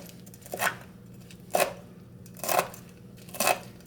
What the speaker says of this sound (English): Cut up 4 or 5 pieces of dried red pepper